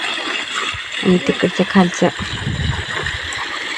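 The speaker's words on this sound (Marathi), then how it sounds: "आणि ह्या उन्हातच रानात पाणी सोडलेलं आहे बाबांनी" Irrigation water released into a village farm field on a hot, sunny day, rushing and splashing steadily throughout at close range while a voice speaks briefly over it in the middle.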